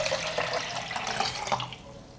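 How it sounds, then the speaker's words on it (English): Water poured from a container into a natural fertilizer mix to dilute it for watering tomato and cucumber plants, a steady close splashing pour lasting about two seconds before tapering off, with no talk. "I will pour 100 milliliters, and I add 400 milliliters of water."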